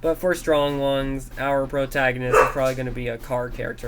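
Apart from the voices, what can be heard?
dog barking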